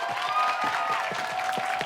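A studio audience at a variety show breaks into brief applause, a dense patter of clapping that stays fairly even and close for a couple of seconds.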